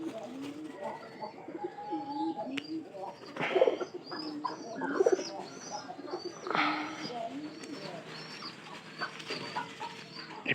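Pigeons cooing close by in a loft, repeated soft throaty coos in irregular bursts with rustling movement and brief chirps around them.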